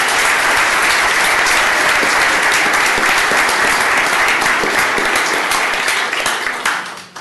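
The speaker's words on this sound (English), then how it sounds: "Let's give them a big applause." At a county commissioners court meeting, an audience applauds employees honored for ten years of service. The applause is loud, dense and steady, goes on for about seven seconds, and tapers off at the very end.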